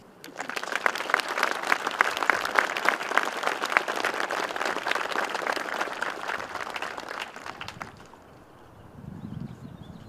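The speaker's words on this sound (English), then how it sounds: "Now, join us in applause." A crowd applauds steadily for about eight seconds at a military anniversary ceremony, a dense wash of clapping that stops abruptly, leaving a quiet room with low rumble.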